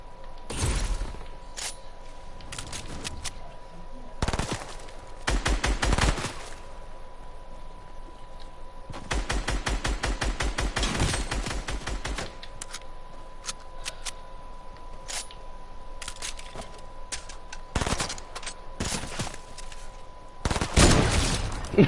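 Gunfire in the video game Fortnite during a solo match: repeated bursts of rapid shots, some long rattling volleys and single cracks, loud and close, with quieter game ambience between bursts.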